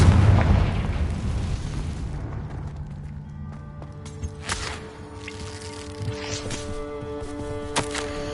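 A Confringo spell explodes in Hogwarts Legacy, a big booming blast that rumbles and decays over a couple of seconds, followed by quieter game ambience with a few tonal chimes and sharp clicks.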